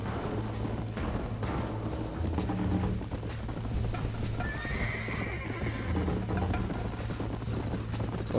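A horse in the video game Red Dead Redemption walks with steady clip-clopping hooves and gives a short whinny partway through, clear and close, with a low engine-like rumble underneath.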